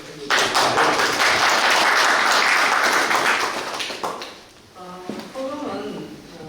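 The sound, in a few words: audience applause for the mayor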